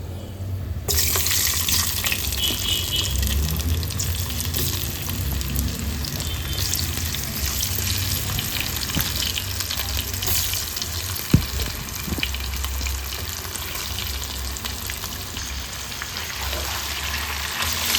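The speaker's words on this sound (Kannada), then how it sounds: "ಆಲೂಗೆಡ್ಡೆ ಹಾಕಿ ನಿಧಾನವಾಗಿ ಫ್ರೈ ಮಾಡ್ಕೊಳ್ಬೇಕು." Potatoes fry slowly in a pan with asafoetida and turmeric, a steady close sizzling hiss that holds for the whole stretch with occasional stirring knocks and no speech.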